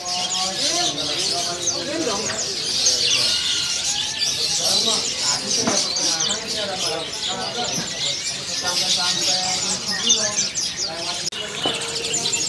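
Trucukan songbirds from East Java chirp and trill continuously at a bird kiosk, a busy overlapping chorus with some cooing, while someone talks over them.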